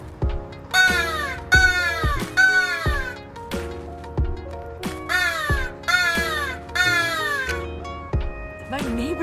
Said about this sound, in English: The instructions said to call the crows, you do 3 long caws, pause, and then do 3 more.